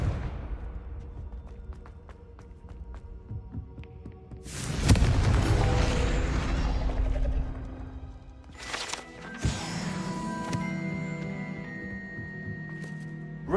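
A Confringo explosive spell goes off in Hogwarts Legacy, a loud booming burst that swells and rumbles for several seconds, followed by a second crackling blast with ringing debris.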